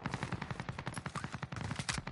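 Rapid, steady bursts of video-game gunfire crackle close and loud throughout, a dense stream of shots from sniper and Scar-H style rifles in an online shooter, with no talking.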